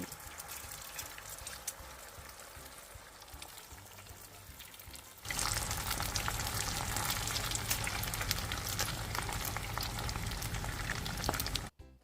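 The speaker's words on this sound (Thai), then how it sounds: "นำน้ำมันพืชใส่กระทะแล้วตั้งไฟจนกระทั่งร้อน จากนั้นเทไข่ลงไป ทอดจนกระทั่งสุกดีทั้งสองด้าน" Beaten eggs frying in hot vegetable oil in a pan, a soft, steady crackle that jumps to a loud, dense sizzle halfway through as more egg hits the oil, then cuts off at the end.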